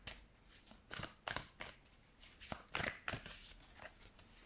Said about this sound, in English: I think this deck shuffles pretty well.